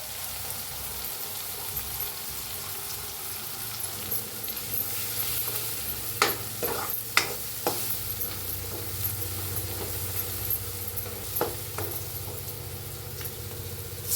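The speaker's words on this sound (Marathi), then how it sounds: "थोडा कडीपत्ता टाकून भाजून घेऊया" Curry leaves roast in a hot pan while pitla is cooked, giving a steady close sizzle with a few sharp crackles and pops.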